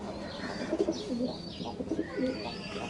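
Pigeons kept for sale, including high-flyer racing birds, coo softly in low, repeated rolling phrases close by, with faint chirps and background noise around them.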